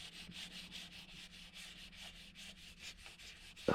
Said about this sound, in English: It's nice clean plastic once you sand this stuff off.